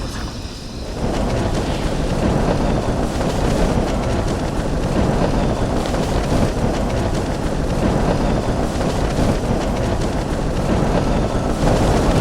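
Fierce wind roars on Everest during a summit push at high altitude, a dense unbroken blast battering the microphone and building sharply after the first second, then holding loud and constant throughout.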